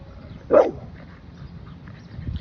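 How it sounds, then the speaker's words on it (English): A single short dog bark close by, followed by quiet room noise and faint shuffling. "Who you barking at?"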